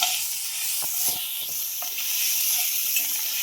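Crushed cluster beans (gavar) for thecha fry in a hot pan, giving a steady close sizzle and hiss with a few soft stirring knocks and no talk.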